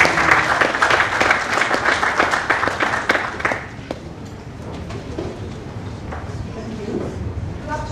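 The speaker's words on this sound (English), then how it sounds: "A round of applause" An audience applauds a panel moderator, a vice president, at a business event on agency relations. The clapping starts dense and steady, then fades after about three seconds into quieter room noise and scattered sounds.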